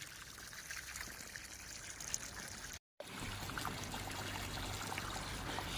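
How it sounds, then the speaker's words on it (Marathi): Continuous soft splashing of water pouring onto a rose plant, steady and fairly faint, with a brief silent cut midway. "त्याला आपण पाणी देतो आहे पाणी चालू आहे"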